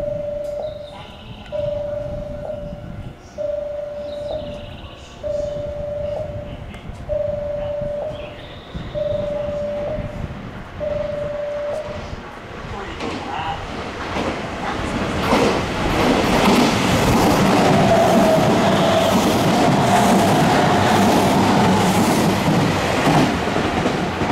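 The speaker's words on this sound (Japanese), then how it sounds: "まもなく2番線を電車が通過いたします" A station chime beeps repeatedly in an even rhythm at Nankai Kaizuka Station, then a Nankai 50000 series Rapi:t limited express roars through at speed, its rumble and clattering wheels building loud and sustained.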